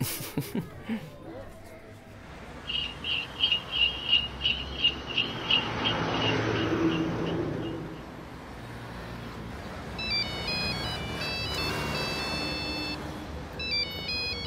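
A phone ringtone chirps in a rapid repeating burst, then electronic ringing tones return later, with people talking underneath in a room.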